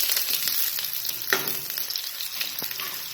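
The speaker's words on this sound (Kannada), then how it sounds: "ಈ ಈರುಳ್ಳಿ ಕೆಂಪಗಾಗೋಂಗೆ ಹುರ್ಕೋಬೇಕ್ರಿ" Sliced onions sizzle in a few spoonfuls of hot oil in a pan for a village-style egg curry, a steady close crackling hiss with occasional stirring scrapes and no talking.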